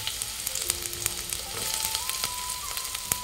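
Finely chopped onion sizzling in hot oil in a pot for a Malvani egg curry, a constant close hiss with light ticks and a faint thin tone running underneath.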